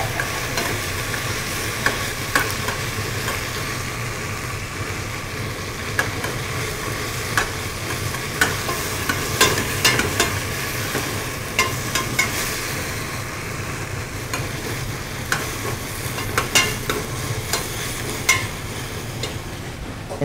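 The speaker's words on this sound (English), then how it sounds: "I'm going to add some minced garlic. Let that saute a little bit." Minced garlic sautéing in a pot, a continuous soft sizzle close by with occasional stirring clicks and scrapes, and no voices.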